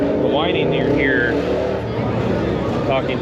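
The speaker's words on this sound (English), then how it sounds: "that's what you're hearing is probably a Pro Charger, a little idle." A ProCharger supercharger on an idling Ford Mustang gives a rising high-pitched whine that comes and goes over a steady engine rumble, with people talking nearby throughout.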